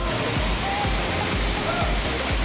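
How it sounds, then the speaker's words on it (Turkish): The Ilısu waterfall roars as a loud, steady rush of falling water, dense and continuous throughout, with faint low thumps underneath. "Ama buradan şelaleyi gösterebilirim size."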